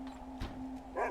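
A video game dog gives a short bark-like yip over a steady in-game background tone and ambient soundtrack, fairly faint, with a brighter burst near the end.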